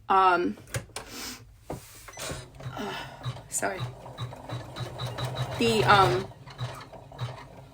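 A sewing machine stitches down the sides of a fabric piece in several close mechanical runs, its whirring mixed with clicks and handling noises while someone talks over it.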